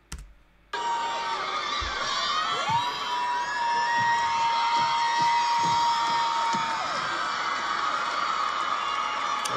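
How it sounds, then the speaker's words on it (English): A large crowd cheers and shouts continuously at a Les Twins dance show in a huge venue, a loud sustained roar with whoops and a held high tone, starting abruptly after a brief quiet moment. "There's definitely a crowd."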